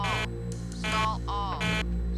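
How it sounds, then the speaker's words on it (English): Cockpit stall warning system on an airliner, set off with a test switch, sounds as a synthetic voice calling out in repeated short tonal bursts over a steady electrical hum. "He activated the stall warning system by a test switch"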